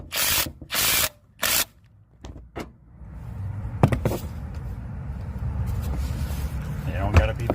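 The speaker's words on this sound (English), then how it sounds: "Tighten back up these mounting bolts." A hand tool tightens the mounting bolts on a 2011 Toyota Tundra secondary air injection valve, giving a few loud ratcheting bursts up close, then quieter scraping and rattling against a low engine-bay hum.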